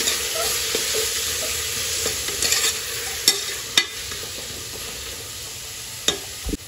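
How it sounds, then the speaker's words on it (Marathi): Washed rajma beans are stirred into a spiced masala in a pan, a soft frying sizzle under repeated scraping stirs and sharp spoon taps against the pan. "आता यामध्ये धुवून घेतला मी राजमा, तो टाकून घेतलाय. पुन्हा ना एकदा छान मिक्स करून घेईल."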